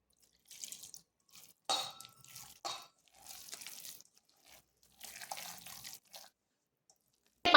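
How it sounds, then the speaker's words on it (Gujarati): Water is added to a poha mixture that already holds curd, arriving in short, soft splashy bursts separated by silent gaps and ending with a sharp knock. "તો હવે આપણે તેની અંદર થોડું પાણી ઉમેરીશું"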